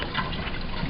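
Liquid is poured out of a fermentation tube in a biology lab, a brief, close, continuous trickling splash with no voices over it.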